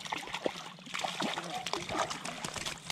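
A freshly caught brook trout thrashing in the water of the White River, giving close, irregular splashes and sloshes over a flowing river, with a person talking excitedly over it.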